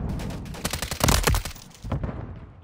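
A light machine gun fires in Call of Duty: Modern Warfare III on the Rust map: rapid, loud bursts of automatic gunfire crackle for over a second, then pause before a few more shots and a fading echo.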